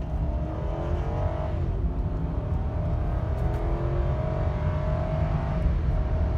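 A Lexus LS 430 accelerates in a smooth, continuous pull heard from inside the cabin, with the engine note rising through gear changes under steady road and wind noise.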